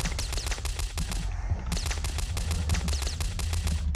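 Rapid Uzi gunfire from the video game Box Head, a loud close burst of evenly spaced shots that pauses briefly near the middle and then resumes at a steady fast rate.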